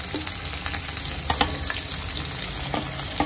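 Chopped onion, curry leaves and chili sautéing in oil for upma, a steady crackling sizzle broken by repeated spoon stirs and clinks against the pan, with no voices.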